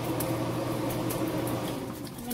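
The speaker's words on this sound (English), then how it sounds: "Turn that fan off so y'all can hear me talk." A kitchen fan runs steadily while jalapeno poppers are being cooked, giving a constant, even hum and whoosh with no breaks and no voices.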